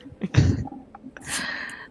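A single sharp sneeze bursts out close to the microphone at a tabletop Dungeons and Dragons session, followed by a soft hissing breath and faint background noise.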